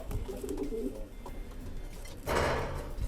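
Soft, low cooing of racing pigeons murmurs at a distance under a noisy background, with a burst of rustling or fluttering near the end.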